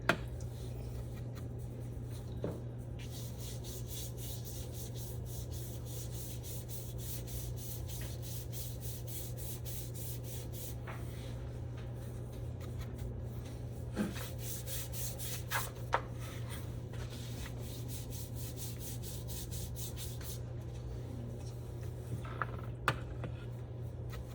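A paintbrush sweeps blue paint across wet paper in soft, continuous rubbing strokes, faint and close with occasional light taps, and no talking.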